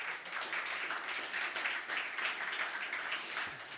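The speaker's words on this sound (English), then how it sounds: "So we'd like to hear some round of applause for those who are here on the spot." Audience applause at a European vocational education gathering on skills for the Baltic wood industry: a soft, steady wash of many hands clapping that continues evenly throughout without pause.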